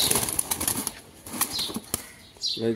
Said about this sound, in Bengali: খুব ছটফট একটা কবুতর দর্শক দেখতে পাচ্ছেন, একটা মাদি কবুতর